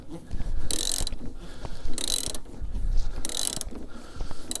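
A shock absorber nut on a Fiat 500 is turned loose with a ratchet, rapid clicking bursts repeating about once a second over a continuous mechanical whir, close up and with no speech.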